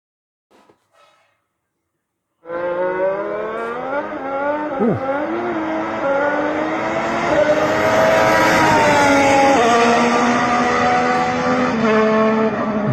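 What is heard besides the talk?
Red Bull RB22 Formula 1 car engine noise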